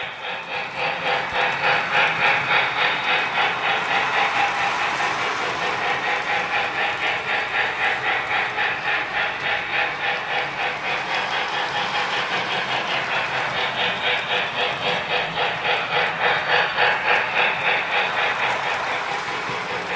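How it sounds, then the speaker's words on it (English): Lionel LionChief Hogwarts Express toy train engine chuffing steadily, a loud, continuous rhythmic puffing close by with a mechanical hum beneath, running without pause. "As you can see, it's in sync with the engine chuffing."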